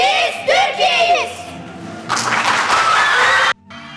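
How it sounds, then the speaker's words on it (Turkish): Audience applause for student performers at a school competition show, a dense burst of clapping that rises and then cuts off abruptly, mixed with children's voices and some speech. "Alkışlarla gönderiyoruz kendilerini."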